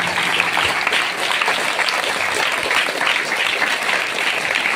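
An audience at a welcome event claps steadily, a dense and even wash of applause that stays loud for the whole stretch without breaks.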